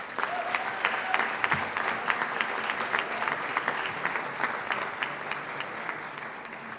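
A commencement ceremony audience applauds its professors, many hands clapping in a dense, steady roar that holds evenly throughout with no voices on top.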